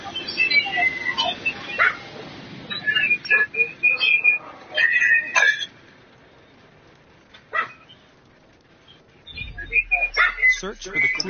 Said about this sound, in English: We got dogs on the gang too now.